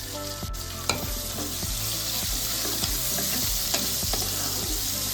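Finely chopped onions sizzle steadily in hot oil while browning, with the occasional scrape of a stirring spoon against the pan and no voices.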